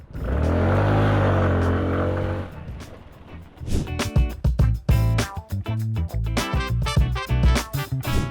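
A QJMotor Cito 150 motorcycle with traction control switched off revs up in a brief rising engine note, quickly giving way to loud rhythmic music.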